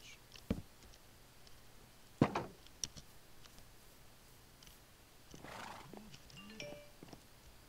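A horse in a video game gives several short snorts and a whinny, with light hoof clip-clops between them, all fairly quiet and with no talking.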